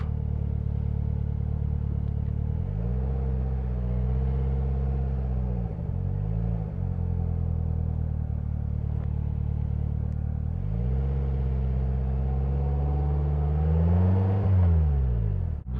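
A 2022 Polaris Slingshot SL pulls away, its engine rumbling loud and close with rising revs, easing between gear changes, then climbing again as it accelerates.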